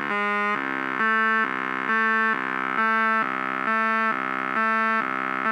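EMS SYNTHI synthesizer oscillator modulated by a square wave, jumping back and forth between two pitches about twice a second in an even, buzzy on-off pattern, loud and alone.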